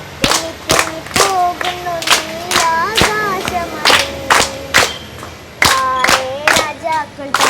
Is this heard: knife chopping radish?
no